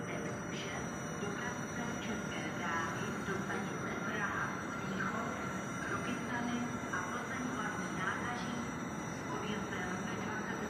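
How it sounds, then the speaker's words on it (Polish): Euronight Slovakia passenger train pulling into a station, a steady broadband rumble of rolling wagons with faint squeals and rattles throughout, continuous and fairly loud with no clear break. "podstawia się skład pociągu Euronight Słowakia do stacji Humene i Warszawa Wschodnia"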